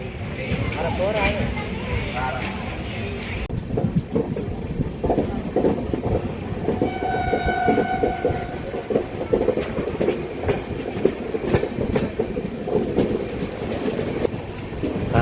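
Satavahana Super Fast Express pulling out of Kesamudram railway station, with loud rolling train rumble, wheel squeal tones and rhythmic rail clatter, under nearby talk.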